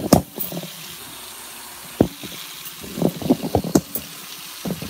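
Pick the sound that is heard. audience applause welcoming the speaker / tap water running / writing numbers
tap water running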